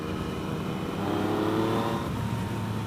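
A 2017 Yamaha FZ09 motorcycle engine revs with a steady, deep single-exhaust rumble that swells slightly midway, then settles back to a continuous growl.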